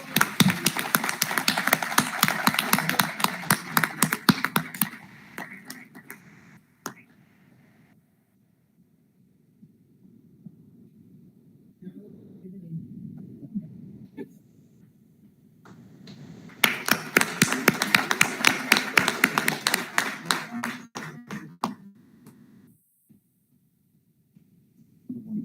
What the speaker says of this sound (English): our applause to the second place and runners-up